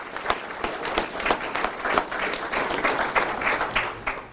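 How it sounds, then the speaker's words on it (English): Audience applause at a mayor's State of the City address, a sustained wash of many hands clapping at steady volume, close and dense, with no voices over it. "Give them a round of applause if you don't mind."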